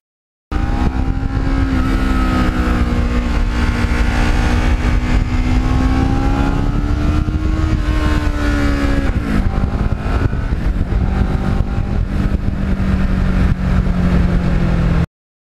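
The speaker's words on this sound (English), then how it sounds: "on a day like today, I feel like I'm riding a brand new bike" A 2009 Kawasaki Ninja motorcycle under way, its engine droning loud and steady with pitch rising and dipping as the rider shifts and changes speed, plus constant wind rush and no voices.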